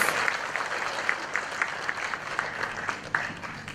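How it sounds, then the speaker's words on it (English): A seated audience at a Toastmasters opening session gives a round of applause, steady clapping from many hands close by with individual claps popping out, continuing throughout without talk. "Please give her another thunderous round of applause."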